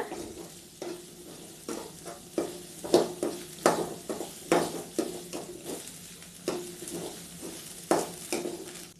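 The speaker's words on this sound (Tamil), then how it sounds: "அரை மூடி தேங்காய் சின்ன சின்னதாக கட் பண்ணி எடுத்து வச்சுருக்கோம். அதையும் சேர்த்தியாச்சு. நல்லா வதக்கிக்கோங்க." Small coconut pieces and onions sauté in a pan for curry leaf chutney, with a steady sizzle under regular stirring strokes that scrape and clack about once a second.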